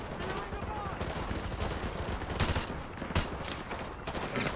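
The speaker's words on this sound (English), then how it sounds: "Yeah, no, I'm shooting them, you know." Continuous dense gunfire in Modern Warfare 2, a steady roar of overlapping shots with a few louder cracks standing out near the middle, under faint talk.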